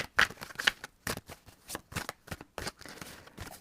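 Tarot cards are shuffled for a horoscope reading: a quick run of crisp, close riffling and slapping bursts with short pauses between them.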